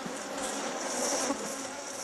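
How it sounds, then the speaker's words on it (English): Thousands of flies and bees hum in a Gabonese rainforest, a dense, unbroken buzzing drone that stays steady and close throughout, with no voices. "A buzzing noise fills the air. It's made by the thousands of flies and bees in the forest."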